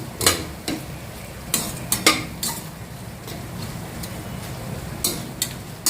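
Masala frying in oil for biryani, stirred in a pot with a utensil: a series of sharp metallic scrapes and clinks over a soft, steady sizzle, close and fairly loud, with no talking.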